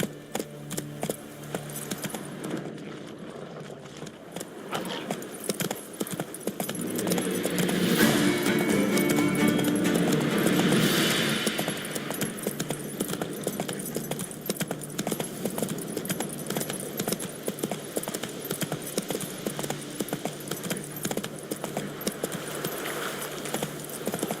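Roach the horse galloping in The Witcher 3: Wild Hunt, a steady rapid clip-clop of hooves that runs throughout and swells louder in the middle, with no talk.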